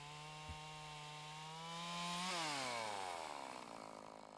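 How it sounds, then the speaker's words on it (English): A chainsaw makes an insert cut partway through a standing tree during felling: a steady engine drone that rises in pitch and loudness, then bogs down as the chain bites into the wood, close and continuous with no talk. "Once the notch is cut, an insert cut is made more than halfway through the tree."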